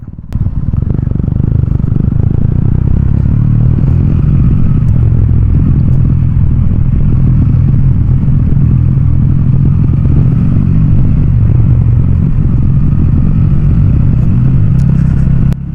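Steady low engine drone and road rumble from a compact motorcycle ridden on a trip through Meghalaya, loud and continuous throughout with faint rattling and no talk.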